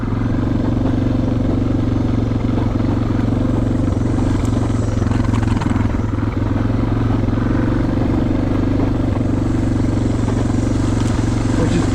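A dual sport motorcycle rides at a slow, even pace of about 12-13 mph, its engine droning steadily and loudly up close with a mechanical clatter and no voices.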